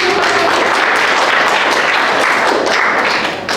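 A crowd claps together in dense, sustained applause at close range, steady throughout before tapering slightly at the end.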